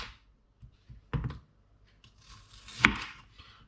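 A knife slices through an onion on a board outdoors, giving a few sparse, soft cuts and one sharper crunching stroke near the end, close and quiet with silence between strokes and no talk.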